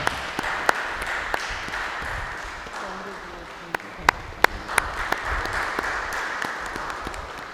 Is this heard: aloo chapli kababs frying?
no